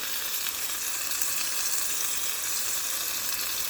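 Chicken browns in a frying pan with a dense, steady sizzle that holds at an even loudness throughout, close and with no voices.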